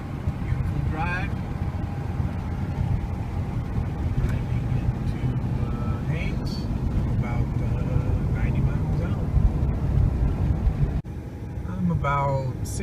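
A car drives a highway near Haines, Alaska, by the U.S. customs border. From inside, a steady engine drone and low road rumble continue, with a faint voice now and then and a brief dip near the end.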